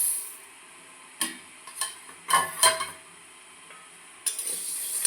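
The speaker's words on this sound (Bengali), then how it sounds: "ভালো করে একটু ডাল ভেজে নেব" Dry moong dal is stirred in a hot wok, with a spatula scraping and clinking against the metal in several separate bursts over a faint sizzle.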